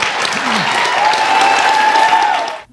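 A studio audience on a daytime talk show applauds loudly and steadily for a few seconds, the dense clapping cutting off sharply at the end, with a brief faint voice underneath.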